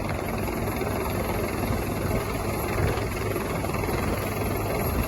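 A steady helicopter drone over a flooded river during a rescue, with a constant low rotor thrum and engine whine, loud and unbroken throughout, with no voices.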